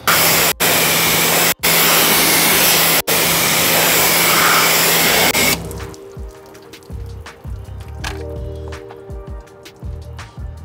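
A loud hose spray rinses a car finished with Diamond Protech BODY 36 coating, a dense hiss broken by a few brief cutoffs, then it stops and leaves scattered drips and trickles running off the panels.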